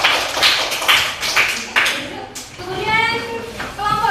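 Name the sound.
children clapping for classmates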